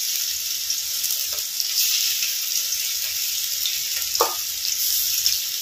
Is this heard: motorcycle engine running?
no